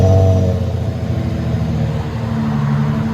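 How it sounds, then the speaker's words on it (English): An Infiniti FX35 3.5L V6 with a muffler delete exhaust holds a loud, rough, steady rumble, close and alone, with no voices. "So it's got a muffler delete on it. We'll let you guys hear it in a second."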